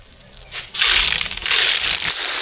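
Mustard seeds crackle and sizzle in hot oil while tempering sambar, a dense burst of popping that starts abruptly and keeps going, close and fairly loud.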